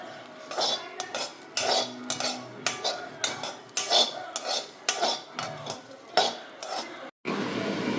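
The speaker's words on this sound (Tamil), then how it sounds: "பிரண்டையை வந்து ஈரம் இல்லாமல் வறுத்து எடுத்துக்கிடணும்." Perandai (adamant creeper) is dry-roasted in a pan, a metal spatula scraping and clinking against it in repeated uneven strokes, close and fairly loud, with a brief pause near the end.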